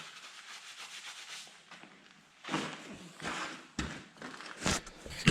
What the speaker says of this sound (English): I'm going to scrape that in the trash before I put it in the parts washer